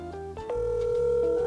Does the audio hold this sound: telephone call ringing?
yes